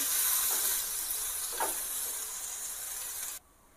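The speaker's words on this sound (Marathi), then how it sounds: "इथे मी आधी लसणाच्या पाकड्या घालते आता हे इतर साहित्यही त्याच्यात घालून घेऊ आणि हे छान असं स्मूद होईपर्यंत आपल्याला तेलात परतून घ्यायचं आहे" Garlic and masala ingredients sauté in oil for a Nashik misal spice mix, with a continuous loud hiss and sizzle and one brief stir, then a sudden cut to near quiet.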